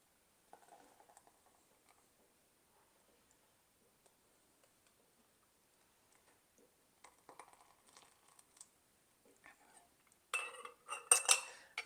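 A spoon scoops pickled peppers out of an overfull glass jar: faint, sparse clicks and ticks in a quiet room, then a burst of louder metallic clinking and rattling near the end.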